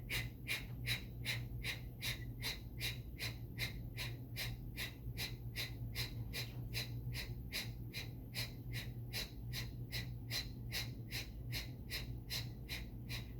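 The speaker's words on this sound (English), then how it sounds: "Working into 40 Kapalabhatis." Kapalabhati yoga breathing during a class, a long run of rapid, forceful nasal exhales in a steady even rhythm, about two per second, close and clear over a low background hum.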